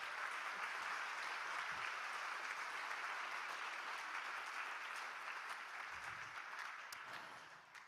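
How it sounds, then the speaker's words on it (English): A round of applause from guests at a community interfaith iftar gathering, steady crowd clapping filling the room at moderate level, thinning slightly toward the end with a few scattered claps. "Can we have a round of applause, please?"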